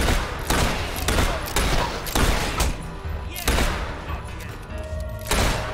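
Repeated gunshots in the fantasy action game Fable III, arriving as sharp bursts at a steady rhythm, fairly loud, with game sounds and faint voices mixed underneath.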